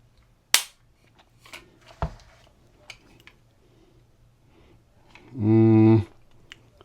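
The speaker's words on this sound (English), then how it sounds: "I'm pretty much just using manual trigger pull just to check the trigger." A Glock G45 Gen6 pistol's trigger is pulled by hand on a trigger pull scale, giving a few sharp isolated clicks and snaps against quiet background, plus a brief buzzing tone near the end.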